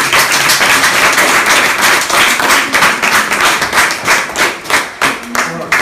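Audience applause at the installation ceremony of a new society in Bas-Limbé, dense and steady clapping filling the room, growing more uneven and rhythmic toward the end.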